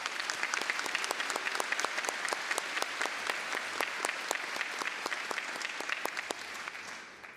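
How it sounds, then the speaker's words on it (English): Steady applause from an audience at a high school graduation ceremony, many hands clapping continuously for several seconds before tapering off at the end. "Please let's give them a round of applause to thank them."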